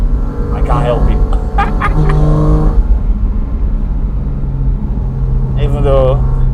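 A Porsche Cayman GT4 RS engine revs high on an alpine mountain pass, a loud, steady car roar with speech over it at the start and near the end.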